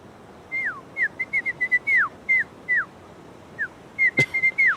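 A human voice whistles in short bright chirps imitating a creature's call, a quick series of rising and falling notes in irregular bursts, close and clear over faint room hiss.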